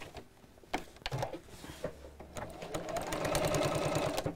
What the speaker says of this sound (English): I'm going to top stitch along each side